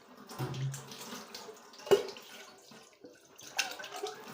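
Water runs from a tap during washing, a faint, continuous splashing hiss with a few soft clinks and knocks mixed in.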